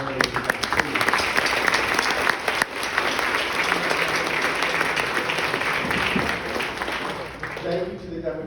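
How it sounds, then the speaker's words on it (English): Sustained audience applause fills a rally hall in Geneva for the candidates, a dense steady wash of many hands clapping that holds loudly for several seconds before tapering slightly near the end. "Let's give a round of applause to these candidates."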